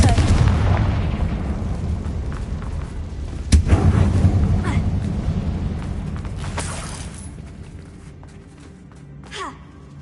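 Confringo fire spell explosion in Hogwarts Legacy on PS5, a sharp loud blast near the middle that follows a rumbling, noisy start and fades into quieter ambience, with a smaller burst near the end.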